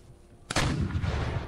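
A single heavy artillery cannon blast in the strategy game Empire Total War, fired at camels, booms sharply and rolls into a sustained rumbling decay after a quiet moment.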